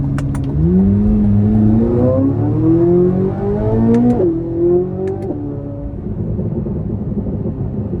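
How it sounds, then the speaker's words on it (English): A 2024 Chevrolet Corvette Z06 convertible's engine and exhaust rev hard out of a corner, climbing through several rising pulls with brief shift breaks, loud and close, then easing off at the end. "And the exhaust sound, the engine sound, everything, it does feel like a Ferrari."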